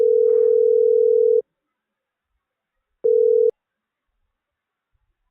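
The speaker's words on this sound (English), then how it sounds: "this is like straight up just ring, ring, ring, ring, ring. Nothing." Telephone ringback on an unanswered call, a loud steady electronic tone lasting over a second, then silence, then a shorter tone burst and the start of another, with no voices.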